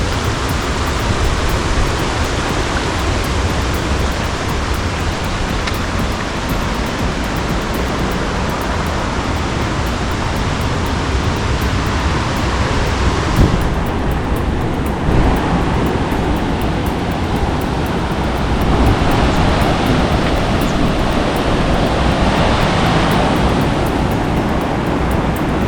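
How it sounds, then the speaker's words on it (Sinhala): Water roars down Bomburu Ella waterfall in Sri Lanka, a loud, dense, unbroken rush heard close, with slight surges in the torrent and no voices. "දැන් නම් දියැලෙන් වැටෙන වතුර සද්ද ඇහෙන හොඳට"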